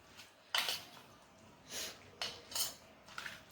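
Spoon clinks and scrapes against a bowl while paneer sandwich filling is mixed, coming in a few short bursts with quiet gaps between them.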